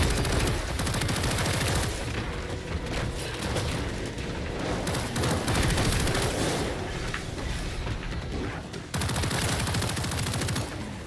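Rapid, continuous bursts of gunfire and booming blasts from the video game Killing Floor 3 fill the scene almost without pause, loud and dense, with brief gaps between volleys.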